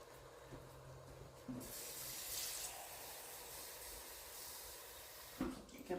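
Water running from a kitchen tap into a pot for beef stew, a steady faint hissing stream that starts after a brief pause and continues, with a clatter near the end.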